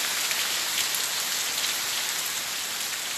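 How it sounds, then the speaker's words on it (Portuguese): Steady rain falls in Cruzeta, Rio Grande do Norte, Brazil, a dense even hiss of drops on surfaces, close and continuous with no voices. "chuva boazinha agora aqui na cidade de Cruzeta, Rio Grande do Norte"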